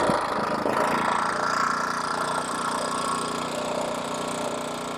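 A Champion 4000 watt dual fuel inverter generator runs steadily at close range, a loud continuous engine drone with a slight knock that holds even throughout.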